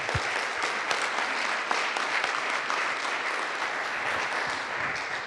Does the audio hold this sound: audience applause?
yes